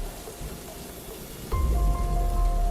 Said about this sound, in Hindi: बाहर बड़ी तेज़ बारिश हो रही थी।